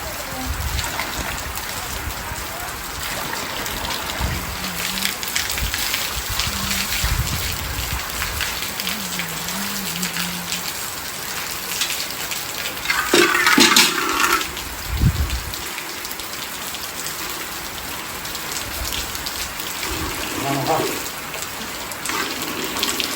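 Heavy rain driven by wind pours down over a village, a steady dense hiss of drops on surfaces lasting throughout, with brief louder gusts and splashes and a few faint voices in the background.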